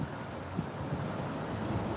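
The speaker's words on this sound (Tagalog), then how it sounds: "Ang sarap ng hangin kasi maaga, malamig eh." Steady outdoor wind rushing and buffeting against the microphone, a continuous broadband roar with no voices.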